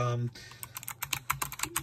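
Fingers type fast on a Logitech G815 low-profile mechanical keyboard, giving a close, irregular patter of crisp clicks after a brief voice at the start.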